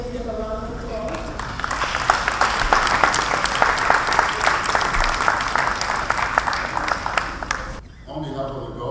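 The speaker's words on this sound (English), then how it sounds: "Our students, let's give them a round of applause." An audience applauds students standing at a United Nations anniversary event in Liberia, a dense sustained burst of clapping that starts over talk, fills most of the stretch and cuts off abruptly, followed by a voice speaking.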